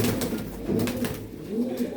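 Pigeons coo close by in low, soft repeated rolls, a couple of overlapping phrases over a steady background hum.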